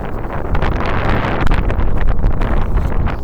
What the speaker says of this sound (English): Problem with this bloody wind, you can't hear anything.